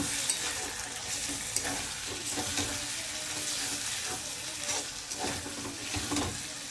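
Potatoes for a Lotte fish curry fry in an uncovered pan, giving a soft, steady sizzle with faint clicks and scrapes of stirring; a faint voice may be present.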